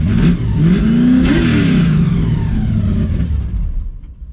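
An LS-swapped Mustang with nitrous revs hard close by, its engine pitch climbing and sweeping through a couple of throttle blips before dropping away to quiet.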